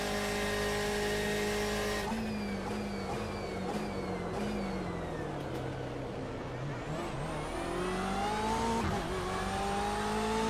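A BMW M8 GTE race car engine in the iRacing video game drones and revs with shifting pitch, steady and continuous, up close with no talking.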